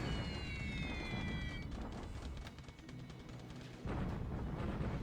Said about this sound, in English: Wow, these are some split up airstrikes.